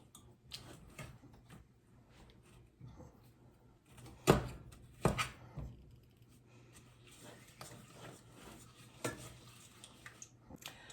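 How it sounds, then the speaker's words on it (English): A strong spoon stirs a walnut square mixture as it melts in a pot over a high burner, giving scattered scrapes and clinks with a couple of sharper knocks. The sounds are close and fairly quiet, with faint background noise and no talk. "Get a strong spoon. And mix everything together until it's melted."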